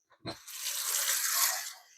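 Water pours from a tap into a pressure pot for curry goat, a steady rushing splash lasting over a second after a brief clunk, fairly close and moderately loud.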